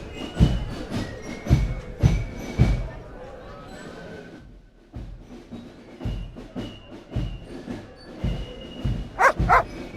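A dog in the Broken Sword 2.5 adventure game barks in a string of sharp, punchy yaps, falls silent briefly, then resumes barking with a few higher yips; a voice is also heard.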